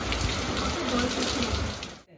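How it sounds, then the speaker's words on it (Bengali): Dense, loud downpour of heavy rain, a constant rushing patter of drops with no voices, fading out abruptly at the very end. "এত বৃষ্টি নামছে, দেখো কত বৃষ্টি হচ্ছে"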